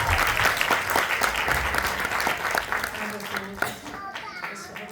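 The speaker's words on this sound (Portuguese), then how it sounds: "Salva de palmas para essa." An audience at a book launch claps in a loud, dense burst of many hands that thins and fades toward the end, with some voices mixed in.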